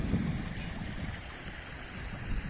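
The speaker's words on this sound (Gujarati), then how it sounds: "વેકરા ફૂલ પાણીના અત્યારે બેફામ જાય છે" A rain-swollen river in flood after heavy rain near Porbandar rushes past in a dense, continuous roar of churning water, steady and close with no voices.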